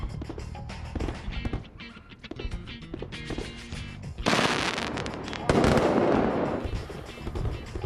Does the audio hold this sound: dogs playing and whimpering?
no